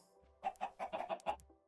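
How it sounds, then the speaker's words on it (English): Chickens cluck in Minecraft, a quick run of about seven short, evenly spaced clucks that sound close and clear against a quiet background. "You got chickens."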